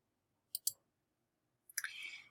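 A mouse clicks on a quiz's submit button: two quick, crisp clicks in a quiet room, then after a pause another click followed by a short burst of faint rustling noise.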